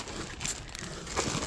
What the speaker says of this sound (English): It's just two plastic bags